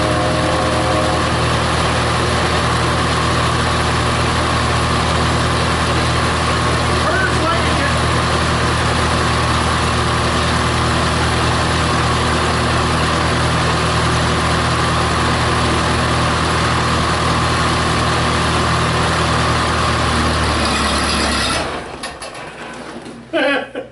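An old Massey Harris tractor engine runs steadily at close range, a loud continuous low-pitched rumble with harmonic drone that holds for about twenty-one seconds before cutting off abruptly, leaving faint rattles.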